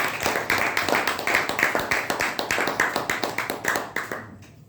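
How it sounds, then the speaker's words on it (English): Audience at a Toastmasters club meeting clapping together, a steady close patter of many hands that fades out toward the end. "let's give a thunderous round of applause"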